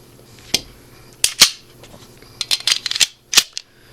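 Sharp metallic clicks and clacks from a Taurus PT92 9mm pistol, made in Brazil, as its action is worked during an empty-gun safety check, a scattered series of close, crisp snaps with no speech.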